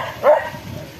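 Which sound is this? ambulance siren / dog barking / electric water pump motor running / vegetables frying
dog barking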